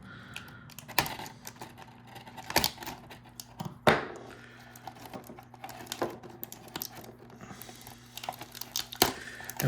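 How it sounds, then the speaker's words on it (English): A Star Trek: The Next Generation action figure is cut free from its plastic blister packaging, with scattered sharp snips, crinkles and plastic crackles at close range in an otherwise quiet room. "Let's just cut it out of there."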